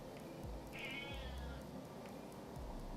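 A cat gives a single short meow, faint and thin, heard over a steady low background hum with a few soft thumps.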